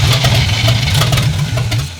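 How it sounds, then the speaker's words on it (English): A Rambler engine idling as low as possible with a too-tight valve, a loud, close, rough and uneven rumble with pulsing low-end chugging for about two seconds, no talk. "Just try to keep it as low of an idle as possible."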